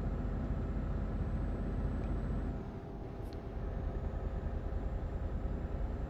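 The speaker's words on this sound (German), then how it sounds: "Ob man den Lastwagen überhaupt hört." Truck engine in Euro Truck Simulator 2, driving through Italy: a steady low drone with a brief dip in level partway through, then the engine resumes, with no talk over it.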